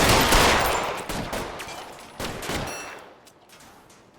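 Gunshots ring out in LA Noire, a series of sharp cracks spaced unevenly over echoing ambience before fading into a quieter tail.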